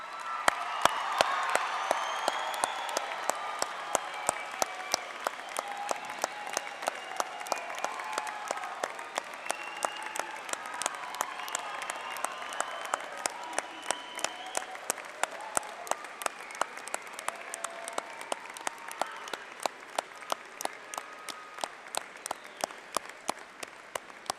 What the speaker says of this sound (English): Let's give these convocates a round of applause